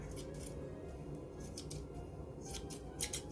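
Fabric scissors snip through material in a quiet room, giving several short, crisp cutting sounds spaced irregularly over a low background hum.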